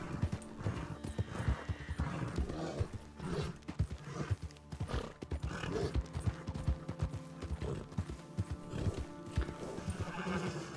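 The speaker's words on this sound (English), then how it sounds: "I love this horse so much. It's so pretty." A horse in the Western roleplay game RedM clip-clops steadily along with rapid, rhythmic hoofbeats, up close and fairly loud, with whinnying neighs mixed in and a constant background hum.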